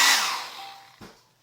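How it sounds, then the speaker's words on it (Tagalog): A hair dryer in a tiny camping house blows a loud, airy whir that fades out over about a second as it is switched off, followed by a soft knock. "hair dryer"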